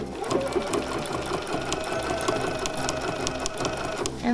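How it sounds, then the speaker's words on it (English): A sewing machine fitted with a dual feed foot stitches a jacket lining, giving a smooth, quick, even run of needle beats and motor hum up close, steady and uninterrupted throughout. "And look how smooth this is sewing."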